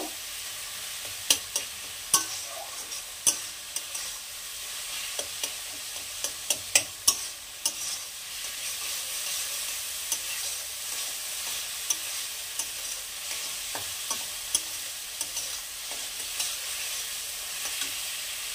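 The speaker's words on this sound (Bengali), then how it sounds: "দিয়ে দেবো 2 চামচ রসুন কুচি। এটাও কিছুটা ভেজে নেব।" Chopped garlic fries in a pan with a steady hiss under repeated sharp clicks and taps of a spatula against the metal, close and moderately loud.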